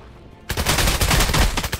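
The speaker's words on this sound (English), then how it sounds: "that other guy's shooting you from the top" Loud, dense gunfire from the VR battle royale game Contractors Showdown starts abruptly after a quiet half-second, with rapid overlapping shots rattling continuously to the end.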